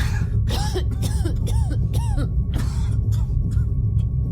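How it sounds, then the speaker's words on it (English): Hard, violent coughing in several rough bursts, one after another, over a loud steady droning hum. "coughing hard and violently"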